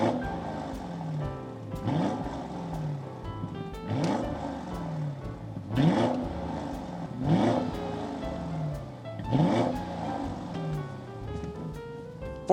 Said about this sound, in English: This particular Audi is equipped with Audi's Sport exhaust.